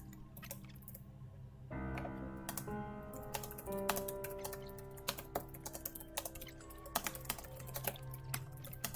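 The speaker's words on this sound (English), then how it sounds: "Typing ASMR." Rapid, close computer keyboard typing, dense irregular key clicks over a low steady background tone with no one talking.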